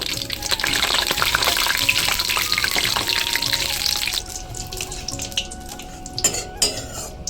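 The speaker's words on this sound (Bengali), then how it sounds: "এই দেখো বন্ধুরা সর্ষেটা বেশ ভালোভাবে পুড়ে যাচ্ছে" Mustard seeds and dried chillies fry in a hot pan, a busy crackling sizzle with spatula scrapes and clinks against the metal, the frying thinning out near the end into scattered knocks.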